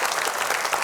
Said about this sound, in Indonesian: Tepuk tangan lu dong buat Mas Ibnu Jamil